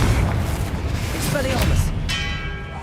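Confringo blasting spell explosions in Hogwarts Legacy, heavy booming bursts and crackling impacts layered over rumbling game noise, with a chiming ring near the end and a voice shouting spell names.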